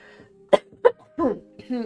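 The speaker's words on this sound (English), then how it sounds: "I still at times get caught on a coughing fit because of the sickness." Two sharp, close coughs in quick succession, followed by voice-like sounds and throat noises.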